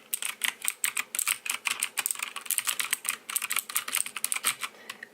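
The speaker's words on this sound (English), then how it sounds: "So it's a nice loud click, but it does mean people can hear when you're typing" Rapid, loud clicking keystrokes on a Combaterwing mechanical keyboard, typed close up in a steady irregular rhythm with no other sounds.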